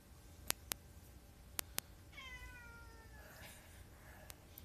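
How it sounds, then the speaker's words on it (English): A cat meows in a drawn-out, wavering call that fades into a rougher tail, with a few sharp clicks before it against a quiet background. "That was a cat."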